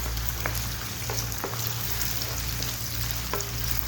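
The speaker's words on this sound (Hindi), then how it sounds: "ज़ीरा है वो इसके अंदर ऐड कर दूंगी और फिर इसके अच्छे तरीके से भुनाई करूंगी।" Cumin and fenugreek seeds roast in oil in a pan, giving a steady close sizzle and crackle with a few scattered pops and occasional stirring, plus a low hum underneath.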